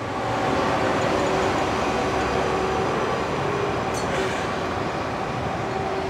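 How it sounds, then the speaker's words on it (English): Monorail train passing near Bukit Bintang station in Kuala Lumpur, beside the Lot 10 shopping mall, a steady rolling rumble with faint whine that holds loud and continuous throughout, with no voices over it. "Oh, I hear the monorail."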